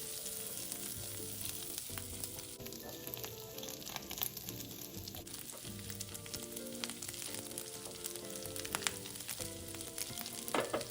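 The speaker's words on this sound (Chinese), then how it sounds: "油爆至虾米溢出香气后，再将备好的腊肠也加进来" Chopped dried shrimp and Chinese sausage fry in hot oil in a wok, a steady crackling sizzle with occasional spatula clinks and stirring scrapes, close and fairly loud, without talk.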